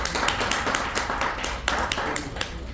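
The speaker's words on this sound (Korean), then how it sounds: "박수로 맞이해 주시기 바랍니다." Audience applause at a national quality innovation competition welcoming a Hyundai Transys presenter, a steady, moderately loud spread of many hands clapping throughout with no talk.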